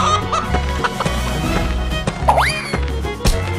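A cartoon chicken lets out a single short, rising squawk midway through, set against continuous background music in a children's animal-painting cartoon.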